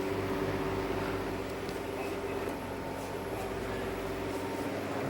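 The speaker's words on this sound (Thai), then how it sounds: "นี่นะครับ เสียงพัดลมปกติ" Two electric fans run together off a 1000W 12V pure sine wave inverter, giving a steady close hum and whir with a constant low drone and faint airy noise throughout.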